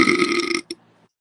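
A man lets out one long, loud, close burp straight into a microphone, followed by a brief short click-like sound and then silence.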